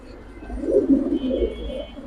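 Close, soft cooing from Giribaz pigeons in a loft rises and falls in a couple of low, throaty bursts.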